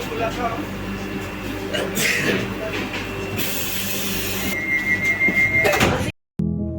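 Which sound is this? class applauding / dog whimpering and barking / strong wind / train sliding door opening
train sliding door opening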